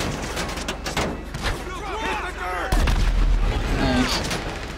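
An explosion blowing something up in GTA: a heavy boom lands midway with a deep low rumble, among earlier gunfire-like thuds, while someone talks over it.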